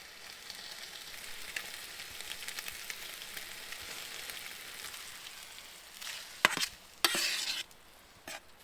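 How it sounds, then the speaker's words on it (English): Stir fry sizzles steadily in a pan at a remote bush camp in the Australian outback, a soft continuous hiss with a few louder scraping stirs near the end. "That's like proper stir fry."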